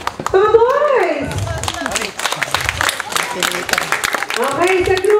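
A group of children claps in quick, uneven bursts through the whole stretch, joined by loud cheering and shouting voices, and an adult speaks over the noise at the start and end.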